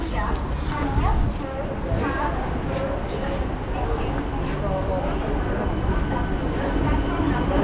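An electric suburban train in India runs with a dense, continuous rumble and rattling clatter heard from inside, loud and close, with voices murmuring throughout.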